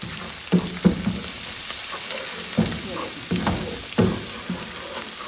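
Garlic and ginger frying in oil with crushed red chilli and turmeric, for Dhaba-style mash daal. Steady sizzle with repeated stirring scrapes and clinks that come close and fairly loud, and nobody speaks.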